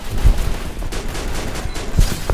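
Gunfire in the Free Fire video game, with dense bursts of shots blending into a steady rattling barrage and a few heavier low thumps standing out, loud and close throughout.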